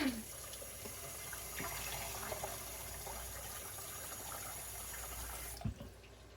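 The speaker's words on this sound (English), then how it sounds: "I fill this pot with water." Tap water runs steadily into a cooking pot, a continuous splashing gush that stops abruptly near the end, close by.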